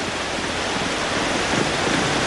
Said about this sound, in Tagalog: Ramdam pa rin ang malakas sa ulan hanggang gabi.